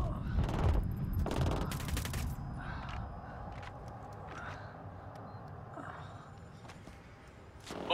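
Gunfire in the video game Ghost Recon Wildlands, with a couple of loud clustered bursts early on, then scattered fainter shots over a steady background rumble.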